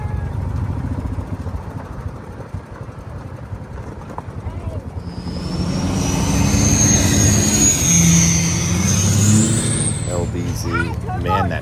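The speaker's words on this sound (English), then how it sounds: "LBZ. Man, that truck sounds good, doesn't it?" LBZ Duramax diesel pickup engine at a truck nationals show, a steady rumbling idle that swells into a louder, sustained rev with a rising whine, heard close with crowd and background noise around it.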